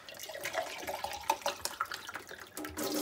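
Water from a kitchen sink tap runs into a can, a faint gurgling, splashing flow with small irregular spatters and a rising fill toward the end, no talk.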